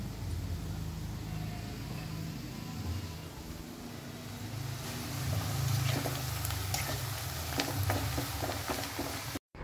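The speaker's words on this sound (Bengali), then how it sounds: "লবণ আর হলুদ দিয়ে বয়েল করা আলুগুলো এবার লাল লাল করে ভেজে নিচ্ছি" Boiled potatoes seasoned with salt and turmeric frying in oil in a home kitchen, a soft steady sizzle with faint clinks and scraping of a utensil, growing slightly busier toward the end.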